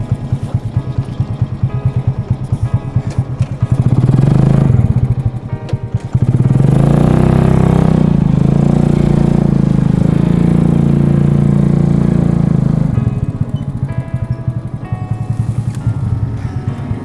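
A motorcycle engine runs close by, idling and then swelling into a louder, steady drone as the bike is brought out, with no talking over it.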